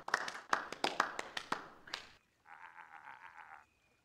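Short round of applause in the Beacon Pines video game, a handful of crisp claps over about two seconds, followed by a brief soft musical tone, all at modest level.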